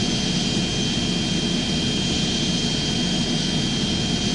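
Continuous airplane jet engine roar from the Airplane Flight Simulator Evo video game on PS5 Pro, steady, loud and even with a faint high whine running underneath and no talk.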